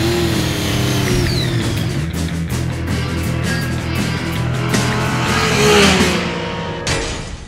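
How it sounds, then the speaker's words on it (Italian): Yamaha MT-09 naked motorcycle under way, a steady loud engine drone with rising and falling revs and wind rush, continuous throughout with a brief swell near the end. "finalmente eccoci in movimento, proviamo l'MT-09"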